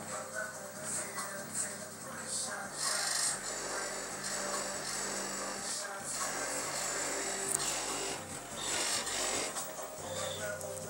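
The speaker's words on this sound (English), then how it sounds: "Hear everything rattling?" Glasses and household objects rattle and buzz continuously inside a house, shaken by loud bass music playing throughout, a dense steady vibration with no pauses.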